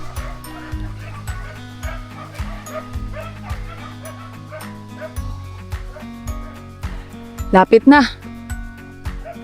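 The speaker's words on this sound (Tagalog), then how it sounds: "nag-ingay lalo yung mga aso." A few sharp dog barks ring out near the end, on a mountain hiking trail at Mt. Mapalad, Tanay, Rizal, over background music and a brief spoken remark.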